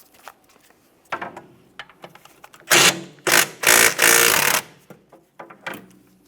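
A 14mm rear brake caliper bolt being removed from a 2008–2017 Mitsubishi Lancer: a few light clicks and handling noises, then several loud, close, rattling power-tool bursts, followed by quieter clinks.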